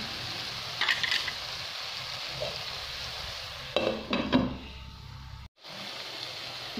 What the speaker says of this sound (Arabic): بوكي تقلالي مليح الباذنجان مع التوابل